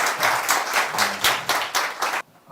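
An audience at a political talk event breaks into rhythmic, unison applause, about four claps per second for roughly two seconds, then stops abruptly.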